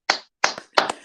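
Three separate sharp hand claps, roughly evenly spaced and close by, given as applause for a performance on a live morning show; no voices, just the isolated claps.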